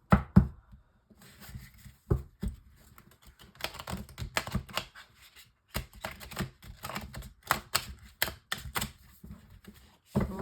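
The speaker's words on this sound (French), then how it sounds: "je prends le Light Sears Tarot, tirage en 9 cartes pour nos amis Capricorne" Light Seers Tarot cards are shuffled and handled for a nine-card spread, giving close, irregular bursts of crisp card flicks and taps, with short quiet pauses between them and no voices.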